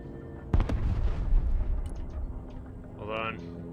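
Artillery fire in the war game Broken Arrow: a sharp blast sets off a rumbling run of explosions, followed by a buzzing whine as a voice speaks over the din.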